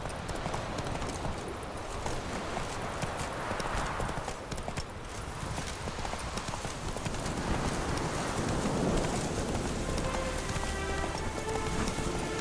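Horse galloping in The Witcher 3: Wild Hunt – Hearts of Stone, rapid continuous hoofbeats over steady rain, with a soft voice briefly heard.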